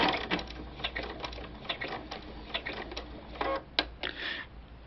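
A sewing machine with a button foot stitches a button in place, a rapid, uneven series of mechanical clicks and taps at close range, moderately loud with no voices.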